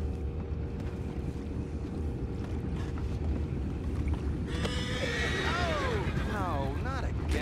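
A horse lets out a whinny that rises and falls, standing out over a steady outdoor background of wind and water sounds.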